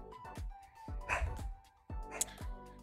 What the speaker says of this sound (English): Sorry if you guys can hear my dog barking in the background.